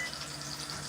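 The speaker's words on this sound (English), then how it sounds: "You hear that sizzle? You hear that fizzle, fizzle, fizzle? You hear it right there? Yeah, that's the dumplings." Dumplings sizzle in a pan as they fry toward golden brown, a steady close hiss with faint crackles and no voices.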